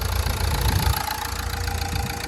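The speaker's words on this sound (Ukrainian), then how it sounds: "А ось і двигун працює гарно, рівно, як і повинен працювати на такому пробізі" A Nissan Qashqai engine with 123,000 km idles steadily nearby, a low even rumble with a faint pulsing beat and no speech.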